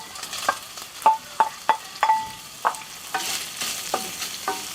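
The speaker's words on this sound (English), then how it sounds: "we're going to add the shallots to the bacon" Shallots frying with bacon in a pan, with a steady low sizzle beneath a series of sharp, close utensil scrapes and taps that come in a fairly even rhythm, then soften toward the end.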